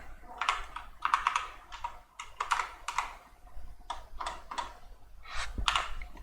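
Bursts of quick, clicky keystrokes on a small computer keyboard, close and distinct, in irregular runs separated by short pauses.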